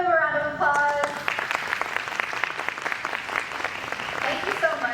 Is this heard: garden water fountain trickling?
no